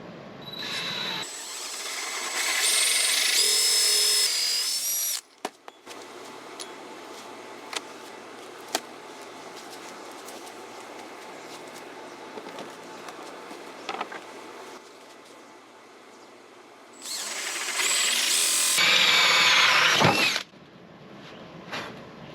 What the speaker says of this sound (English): I'm going to start first by using the big hole saw.